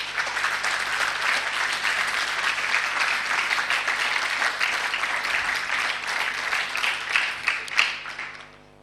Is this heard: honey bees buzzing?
no